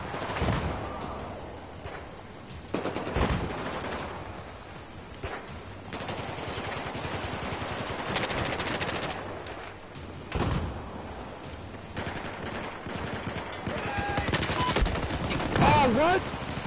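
Bursts of assault rifle fire in a video game, rapid repeated volleys spread across the stretch with gaps between, mixed with game effects and some voice.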